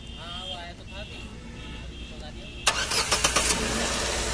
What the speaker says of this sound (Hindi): अभी स्टार्ट करते हैं ज़रा गाड़ी को, तो स्टार्ट करवाते हैं ज़रा गाड़ी